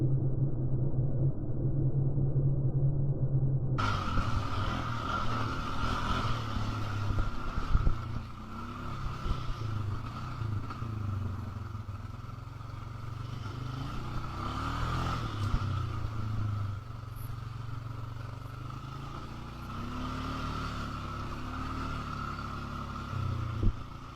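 An ATV engine rumbles steadily up close for the whole stretch, a low droning motor with some clatter that holds fairly loud as the vehicle passes by, with no talk.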